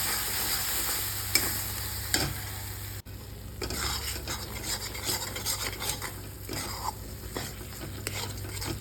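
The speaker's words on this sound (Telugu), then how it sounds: "అప్పుడు మనం రుబ్బి ఉంచుకున్న నువ్వుపప్పు ముద్దనేసి బాగా వేగనివ్వాలి. అడుగు అంతకంటే బాగా కలుపుతూ ఉండాలి." Ground sesame paste fries in a pan for a raw mango sesame chutney, sizzling steadily while a utensil scrapes and stirs against the pan in repeated clinks and scrapes, heard alone.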